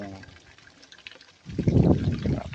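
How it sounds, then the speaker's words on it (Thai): Fresh water runs into a catfish-rearing jar during a water change. A quiet trickle swells midway into a louder, close splashing flow. "ตอนนี้ก็ เปลี่ยนน้ำแล้วละครับกำลังเปิดน้ำลง"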